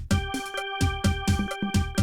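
A repeating Pastel Siamkey electronic keyboard demo pattern with bright sustained synth tones over a bouncy bass and percussion rhythm, loud and close.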